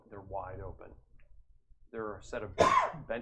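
A single sneeze bursts out partway through, set between stretches of someone talking during a tabletop role-playing game session.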